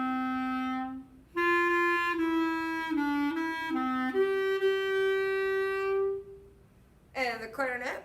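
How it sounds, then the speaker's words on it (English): A trumpet plays the first trumpet part alone, a clear sustained melodic line of several held notes with a brief gap near the start, then a voice talks at the end. "So I'm going to play trumpet 1."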